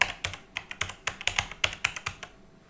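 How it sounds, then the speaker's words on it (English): Computer keyboard typing, a quick run of about a dozen crisp, close key clicks that slows and stops near the end. "here I'm going to type"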